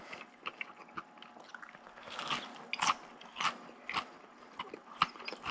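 Crunchy bites and chewing of crispy no-knead pan pizza, close and fairly quiet, with scattered crackling crunches and soft scraping through the stretch and no talk.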